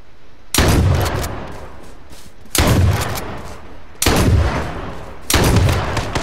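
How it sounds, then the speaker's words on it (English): Four loud, sharp shotgun blasts in a video game, each booming report trailing off into a brief decaying echo, spaced roughly a second and a half apart with no talking. "I shot him like three times with a shotgun."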